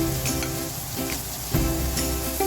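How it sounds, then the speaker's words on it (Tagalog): Squash pieces stirred in a hot pan while cooking for shrimp in coconut milk, with a steady close sizzle and intermittent scraping stir strokes throughout. "Haluin lang po natin ito."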